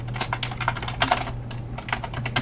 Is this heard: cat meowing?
no